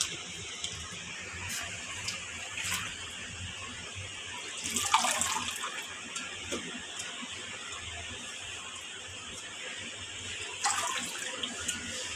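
Running water from a tap pours steadily while leafy greens are rinsed by hand, a constant close wash with occasional louder splashes and handling noises.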